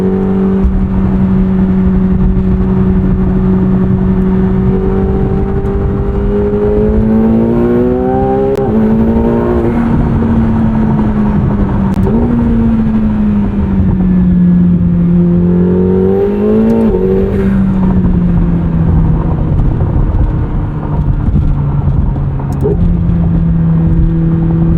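A 2025 McLaren 750S engine pulls hard through the gears from inside the car, a loud, close drone whose pitch climbs and drops with each rev and shift, running continuously with no talk.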